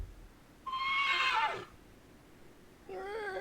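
A horse neighs in the Total War Warhammer game, Tomb Kings campaign, with an undead steed giving a loud descending whinny, followed after a pause by a second shorter wavering neigh, over low background game ambience.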